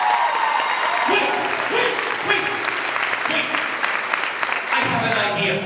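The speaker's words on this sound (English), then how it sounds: "So I'd like everybody in the room to applaud her." Applause from an audience at a Q&A event, sustained and loud clapping across a large room, with cheers and voices rising through it.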